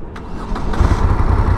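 A Moto Guzzi California motorcycle engine starts up: a brief cranking leads into a catch, then a deep, steady, rumbling idle, close and loud.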